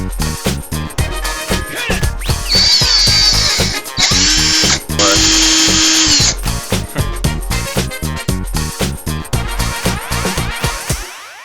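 A DeWALT cordless power drill fires in short bursts and then several longer whirring runs, loud and close, with clicks and handling noises between the stops.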